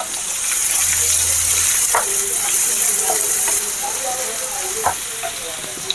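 Onions sizzle loudly in a hot pan, a constant crackling hiss with occasional scrapes of stirring.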